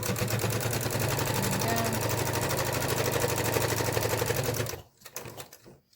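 Sewing machine running steadily as it top-stitches a narrow seam on a fabric mask with elastic ear pieces, a loud continuous rapid needle clatter for several seconds before stopping abruptly, followed by a few faint handling clicks.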